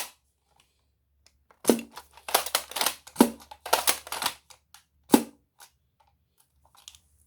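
A Nexus Pro blaster fitted with a plastic spring fires, giving a crisp snapping pop followed by several quick clacking mechanical clicks and rattles, close and dry in a quiet room.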